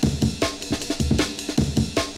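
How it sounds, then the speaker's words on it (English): A fast jungle breakbeat drum loop plays alone, with punchy kicks, crisp snares and busy hi-hats in a tight, repeating rhythm. "It's a drum sample that's as essential to jungle as Mitsubishis are"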